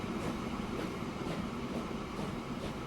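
A game train in Transport Fever 2 rumbles steadily with a low, even rolling noise and faint rhythmic clatter as it halts at a signal, heard at moderate distance with no voices.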